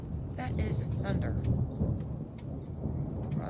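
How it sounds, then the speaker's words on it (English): Low thunder rumbles through a dark sky during a thunderstorm under a tornado warning, a steady broad roll with birds chirping faintly on top. "That is thunder."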